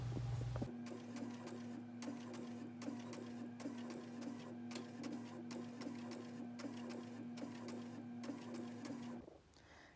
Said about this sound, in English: So of course I'll be using my HP printer, and then I'm using the double-sided glossy photo paper.